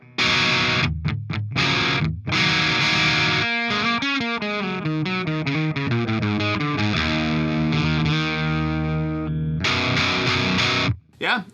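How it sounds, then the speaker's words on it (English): An electric guitar through an STL AmpHub amp model on the top boost channel with the input cranked, playing distorted chords and a run of overdriven single notes, loud and alone. "go back to the high or the top boost, and we will crank the input of it"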